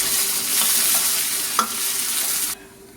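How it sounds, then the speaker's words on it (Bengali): Onion and garlic fry in a pan of dal tempering with bay leaf and five-spice, a steady hiss with a few scraping stirs, close and alone before cutting off near the end. "পেঁয়াজ রসুন ভাজা হয়ে গেছে,"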